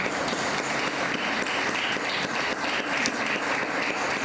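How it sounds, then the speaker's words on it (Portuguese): A church congregation applauding together in sustained, dense clapping that fills the room at steady loudness. "Aplauda mais uma vez e pode sentar"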